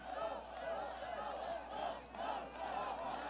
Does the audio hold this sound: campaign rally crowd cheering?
yes